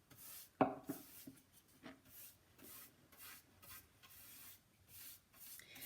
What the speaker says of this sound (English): you brush on the oil